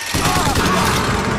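Rapid crank gun fire in the game Bioshock Infinite, a dense, continuous burst of shots lasting the whole moment, loud and close with a faint voice underneath.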